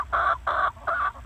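Hens clucking close by in a mobile chicken tractor, three short rhythmic clucks in quick succession with brief gaps, no talk.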